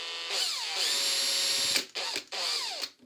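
A power drill whines steadily into a plasterboard wall, stopping briefly twice and restarting, close and loud with no talking.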